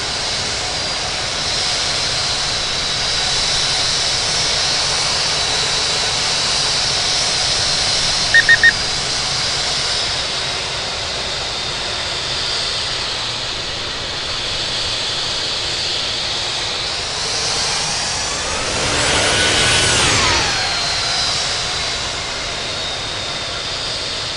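Aircraft engines idle and taxi at Heathrow in a flight simulator game, a steady broadband jet roar and hiss throughout, with a louder swelling whoosh near the end as power rises or another aircraft passes.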